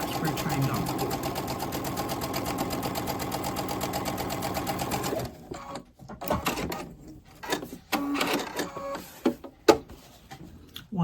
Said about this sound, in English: Now we have sewn our lines on either side.